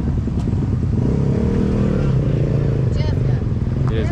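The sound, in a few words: Polaris RZR turbo buggy engine revving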